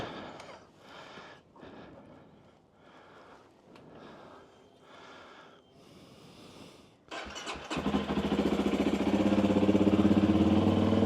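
A car engine fitted with an SSS Stage 2.1 ECU cranks and fires after several seconds of quieter rustling and breathing-like sounds, then settles into a loud, steady close-up idle.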